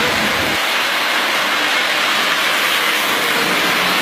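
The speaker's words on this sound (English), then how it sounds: "Take us over here to our signature train." Standard-scale model train circling a beach-themed holiday layout at a train show, a steady loud rolling rumble and hiss that runs unbroken for about four seconds.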